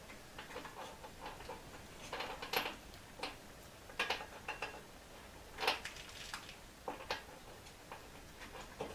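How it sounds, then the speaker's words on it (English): A spark plug is threaded into the engine of an Aldi Ferrex petrol lawnmower, giving faint, close metallic ticks and small scraping clicks in irregular bursts against a quiet background. "Let's get the spark plug in."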